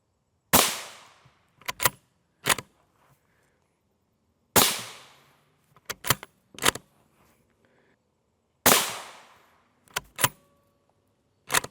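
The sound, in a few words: M855 rifle round fired at NIJ Level IV body armor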